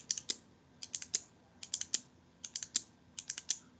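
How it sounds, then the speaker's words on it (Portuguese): A pen clicks repeatedly in quick, uneven clusters of sharp little snaps during a lecture on jury trials, faint and close with no talking over it. "Vocês ouvem o barulho da caneta?"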